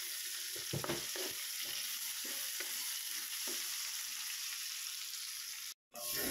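Ginger, garlic and onion sizzle with meat in a hot pan while a utensil stirs and scrapes in several short strokes, a steady frying hiss underneath, close and fairly loud, cut off by a brief silent gap near the end.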